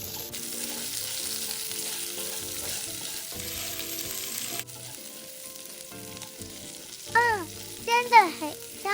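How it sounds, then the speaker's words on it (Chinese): Pork belly stir-fried in a wok with rock sugar and a whole head of garlic, a steady close sizzle with scraping stirs, a few bright clinks of the spatula near the end. "然后一起拌炒，拌炒至冰糖溶解"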